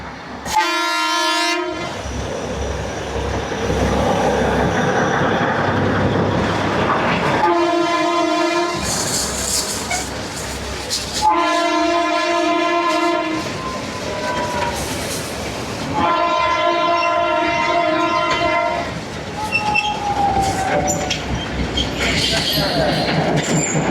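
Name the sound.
Matheran toy train passing with horn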